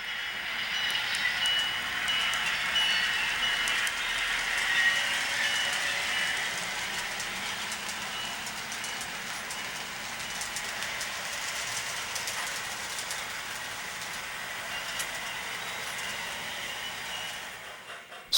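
Model railroad passenger train running on a club layout, a continuous steady hiss and rumble of wheels on track, fairly close and even throughout, fading slightly at the end, no talking.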